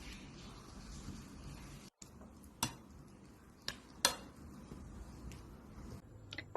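Eggs with herbs, walnuts, barberries, spices and flour are mixed for kuku sabzi, with a spoon or whisk giving soft stirring scrapes and a few sharp clinks against the bowl, close and quiet.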